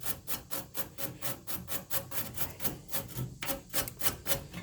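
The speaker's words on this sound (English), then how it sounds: "hit the wire brush. Get down in there's nooks and crannies" A wire brush scrubs an evaporator coil in quick, rhythmic back-and-forth strokes, a close, scratchy rasping that repeats about four times a second, with no talking.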